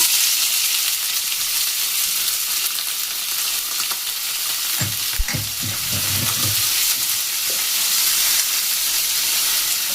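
Onions hit hot oil tempered with panch phoron, bay leaves and broken dried red chillies, setting off a steady bright sizzle that swells with bursts of stirring and clattering midway, close and loud, no talk.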